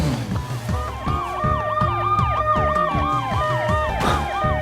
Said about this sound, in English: There's another siren.